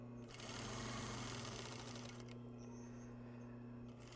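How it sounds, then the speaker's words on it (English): A sewing machine runs a plain seam through fabric with a steady rapid whirring hum, close and quiet, starting just after the beginning and easing off near the end. "I am merely going to press down on the foot pedal and sew with the edge of my fabric at 1/2 of an inch"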